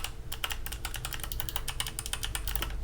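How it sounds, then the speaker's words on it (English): Rapid clicky typing on a Hexgears Supernova mechanical keyboard fitted with Kailh BOX White switches, a dense, continuous run of sharp keystrokes heard close up and alone. "So this keyboard comes with Kailh BOX white switches."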